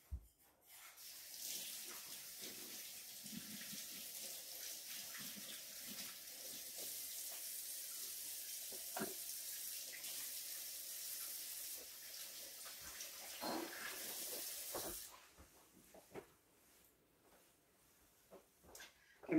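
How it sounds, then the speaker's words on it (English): A kitchen tap runs steadily for about fourteen seconds as hands are washed, a close, continuous splashing hiss into the sink, then shuts off, leaving faint handling sounds. "I'm gonna wash my hands again"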